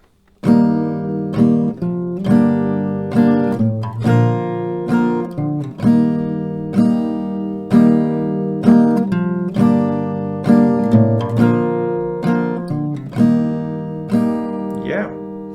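Steady acoustic guitar strumming cycles through a chord progression, with rhythmic downstrokes repeating evenly and clearly for several bars, no voices.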